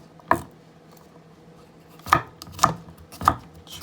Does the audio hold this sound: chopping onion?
yes